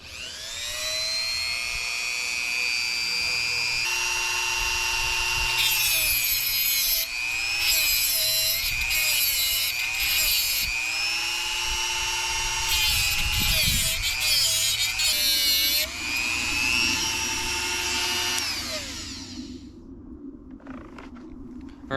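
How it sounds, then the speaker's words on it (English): A TIG welding tungsten electrode is ground on a bench tungsten sharpener, giving a loud, steady high-pitched whine that wavers as the rod is turned and repositioned, then spins down near the end. "now you guys get to see me use my tungsten sharpener"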